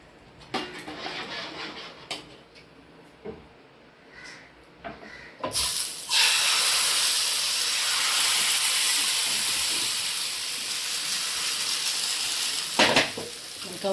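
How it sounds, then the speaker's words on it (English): Onion dipped in oil rubbed across a hot frying pan for dosa, first with scattered taps and scrapes, then a sudden loud steady sizzling hiss that carries on, with brief knocks near the end. "I dipped it in the oil and I'm going to rub it on the pan this way, all the sides"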